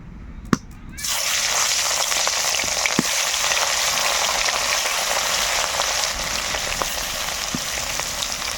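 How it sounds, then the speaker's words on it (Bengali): Rohu fish pieces drop into hot mustard oil in a kadai, setting off a sudden loud, roaring sizzle after a quiet moment, which then crackles on steadily with occasional sharp pops. "তেল গরম হয়ে গেছে এবার মাছগুলো ছেড়ে দেবো"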